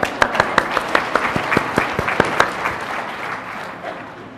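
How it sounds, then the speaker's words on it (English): Audience applause after a choir rehearsal, a steady dense patter of clapping with sharp individual claps standing out, fading slightly toward the end, with no talk. "Give yourselves a round of applause"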